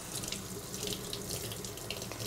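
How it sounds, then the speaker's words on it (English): Tap water runs steadily into a kitchen sink over hot roasted red peppers as their peels are pulled off, a continuous close splashing rush with no talking. "So I'm just gonna get a little water running and use the water to help"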